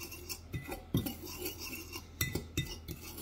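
Quiet, close spoon strokes scrape and tap around a bowl as a potato mixture is mixed with chilli flakes and Italian seasoning, in irregular bursts with soft pauses between.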